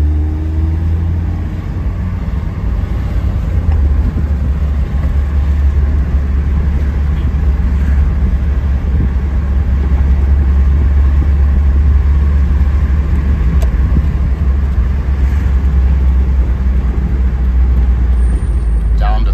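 1991 Alfa Romeo Spider Veloce engine pulling away from idle in gear, a loud, steady low drone with road and cabin rumble, a voice talking over it.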